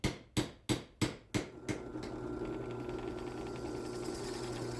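A small drill runs with a steady, faint whir while boring into a Damascus knife handle. It follows a quick series of six sharp taps that fade out.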